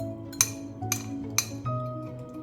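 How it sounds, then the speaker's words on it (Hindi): Fried egg being scrambled in a pan for chicken fried rice: three sharp metallic clinks of a utensil against the pan, evenly spaced, over a low steady background hum, no voices. "फ्राई करके इसको स्क्रम्बल कर लेंगे एग को"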